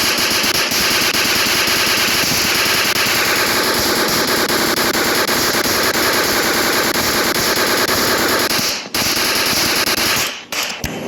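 Rapid, continuous machine gun fire from a military base zombie shooter game, loud and sustained for about nine seconds, then a brief gap and a short final burst.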